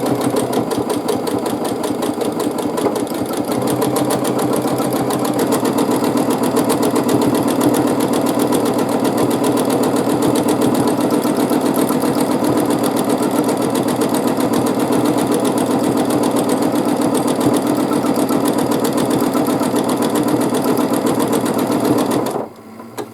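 A sewing machine hums steadily through free-motion quilting of fluffy flower patterns, a loud, even mechanical whir that runs almost without pause and cuts off abruptly at the very end.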